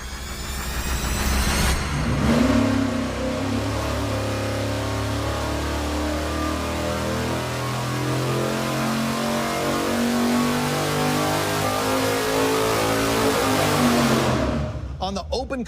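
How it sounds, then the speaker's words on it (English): A high-horsepower V8 on an engine dyno runs with an open carburetor and no air filter. It revs up sharply, holds a loud, sustained roar with a shifting pitch, then drops off abruptly near the end. "first we're gonna fire it up and run it with no air filter on it at all"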